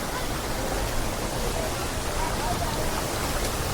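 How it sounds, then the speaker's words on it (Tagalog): Puray Falls waterfall pouring in a steady, dense broadband rush, constant and close with no pauses. "Ganyan kaganda ang Puray Falls."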